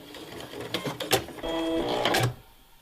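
A sewing machine runs a steady, close stitching burst through pinned practice fabric for about a second, with fabric handling and clicks before it and quiet after.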